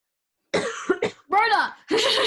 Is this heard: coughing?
yes